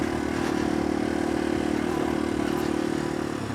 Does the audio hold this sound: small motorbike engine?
yes